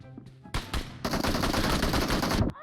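Rapid automatic gunfire in PUBG Mobile, a loud close burst that runs for about two seconds after a couple of single shots, with no talk over it.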